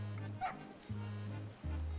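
Dog barking in the dungeon-crawler word puzzle game Cryptmaster, three low, steady woofs at a regular pace, moderately loud and alone.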